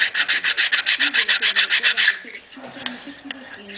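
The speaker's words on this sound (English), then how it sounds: "Sanding block." Sanding block rubbed back and forth over a wooden model airplane part, about a dozen quick, even rasping strokes up close, then quieter handling sounds.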